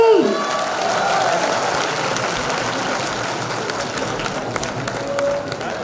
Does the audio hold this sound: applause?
yes